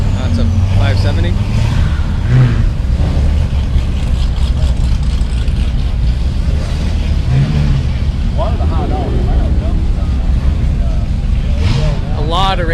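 A McLaren 570 engine rumbles close by at a Nashville cars and coffee meet in traffic, a low steady idle with a few brief revs, under people talking nearby.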